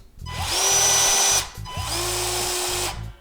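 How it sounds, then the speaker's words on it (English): Ryobi 18-volt cordless branch cutter, a tool for branches under 1 1/8 inch, whirs loudly in two short bursts with a brief pause between, rising on each start and winding down at the end. "So this tool allows you to cut branches that are less than 1 1/8 inch."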